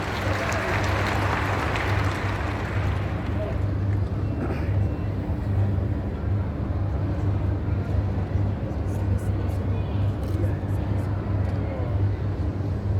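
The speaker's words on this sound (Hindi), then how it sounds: "आप सबकी करतल ध्वनि के साथ, आप सबकी तालियों के साथ" A large audience at a tribal conference in Damoh, held for President Ram Nath Kovind's visit, applauds in a steady, dense wash of clapping that stays loud and continuous throughout, over a low electrical hum.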